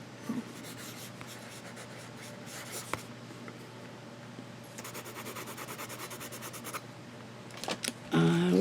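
Pencil scratching across paper, tried out alongside pens and inks, giving a steady close-up rubbing scrape with short gaps and bursts of stroke texture, no talk.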